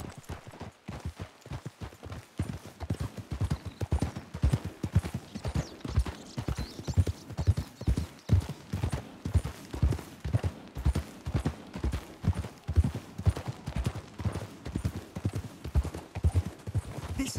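Horses' hooves beat a fast, steady galloping clip-clop in the Red Dead Redemption 2 video game, close and continuous throughout, with a faint whinny and no talk.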